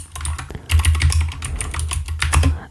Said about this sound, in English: Keyron K2 with blue switches. So just as a hint, blue switches make this very clicky sound in general.